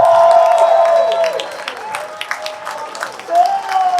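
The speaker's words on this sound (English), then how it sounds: "Everyone give Tom another round of applause for coming out tonight." Crowd applause and cheering for actor Tom Atkins at a cinema screening event, clapping and whoops that fade and then swell again, mixed with voices and loud tonal whistles.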